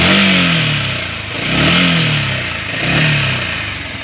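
Yamaha YZF-125R motorcycle with stock exhaust revved three times in succession, each blip swelling and falling away, loud and close with no talk.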